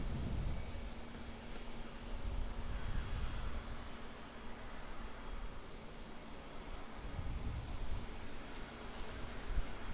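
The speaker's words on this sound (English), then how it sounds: "We'll just catch another aircraft coming in. Looks like another triple. It must be United. Coming in from San Francisco." A United Boeing 777-200 arriving from San Francisco lands at Auckland Airport, its engines a steady, distant broadband roar that holds for about ten seconds with no voices.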